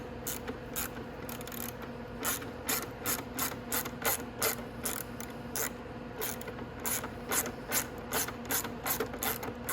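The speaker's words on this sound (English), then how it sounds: "these are just 10 mil bolts. So you'll need a 10 mil ratchet" A 10 mm ratchet loosens bolts on a Venom X20 125cc motorcycle. Quick, evenly spaced clicking strokes repeat steadily, close up and clear, with no talking.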